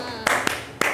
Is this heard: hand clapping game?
yes